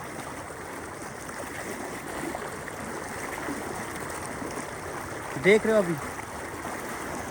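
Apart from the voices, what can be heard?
dangerous flood water rushing through a village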